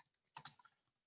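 A few quick, faint keystrokes on a computer keyboard, a soft cluster of clicks within about a second, close and quiet with no talking.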